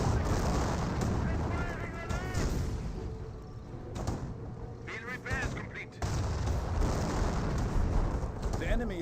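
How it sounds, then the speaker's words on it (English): Artillery barrages from the Company of Heroes strategy game fall as dense rumbling explosions and crackling gunfire, continuous and loud, while a commentator talks over much of it. "Wolfman barrages raining on in, missing the various infantry sections"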